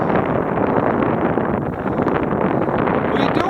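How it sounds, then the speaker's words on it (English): Strong wind buffets the microphone outdoors up high, a loud continuous roar with no break. "the wind is blowing up here"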